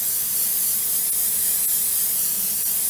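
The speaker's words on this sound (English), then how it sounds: "Whatever you like to use for non-stick, give it a little spritz." Non-stick cooking spray hisses from a can onto a cookie sheet in a home kitchen. It is one continuous, close, airy spritz lasting a few seconds, with no talking over it.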